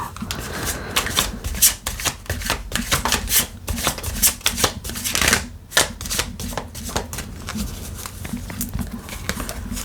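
Tarot cards from a large deck are shuffled in quick bursts of crisp riffling and flicking, fairly close, with short pauses between rounds and no talking.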